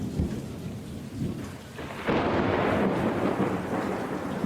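A thunderstorm with continuous heavy rain and a deep, rolling rumble of thunder that builds and swells midway, loud and close with no voices.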